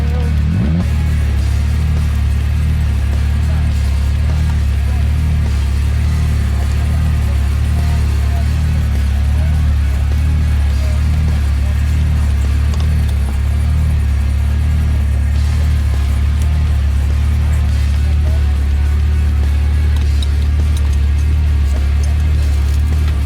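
Supercharged Honda S2000 fitted with a Whipple blower, idling loud and steady at a race event, a deep constant engine drone with a rhythmic low pulse running throughout.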